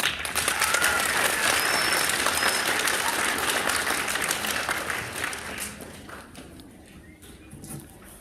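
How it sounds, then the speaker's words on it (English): Sustained applause from a crowd honoring kids at a director's awards presentation, loud and dense at first, then thinning and fading toward the end. "Let me give my kids one more round of applause"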